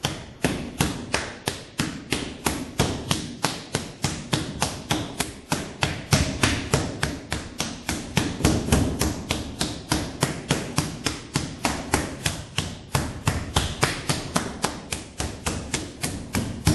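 Clay pounded by hand into a decorative tile mold with an edge detail, a steady run of dense, close thuds repeating about three times a second for the whole stretch.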